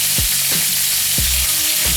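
Loud, continuous sizzling and crackling of cheesesteak meat frying in a hot pan over medium-low heat, with a few scraping stirs cutting through the hiss.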